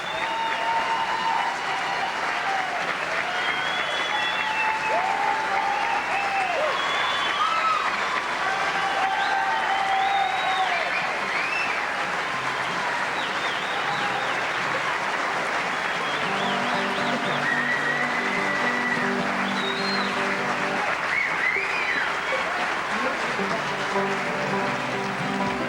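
An audience at a live 1989 bluegrass concert applauds throughout, a dense sustained wash of clapping with whistles and cheers mixed in, and a few faint tones underneath near the end.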